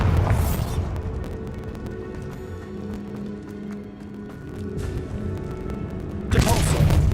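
Bombarda spell explosions in Hogwarts Legacy, a sustained rumbling blast with a sharp crashing burst at the start and another at the end, loud and close.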